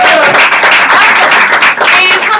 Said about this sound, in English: Clap it up, you guys.